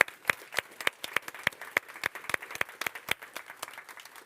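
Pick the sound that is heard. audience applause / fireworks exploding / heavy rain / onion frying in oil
audience applause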